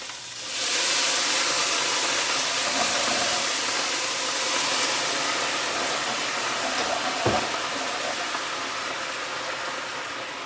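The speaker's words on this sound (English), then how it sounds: "this is going to sizzle" Food sizzles loudly in a hot pan while Thanksgiving turkey gravy is being made, a steady close hiss that holds alone for about ten seconds with a brief sharp pop partway through.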